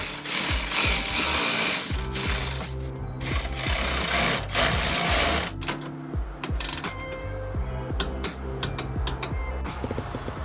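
A ratchet with a wobble extension tightens bolts on a Ford Bronco, giving rapid, loud, continuous mechanical clicking with a few brief pauses and shifts in pace.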